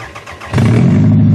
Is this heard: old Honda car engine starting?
yes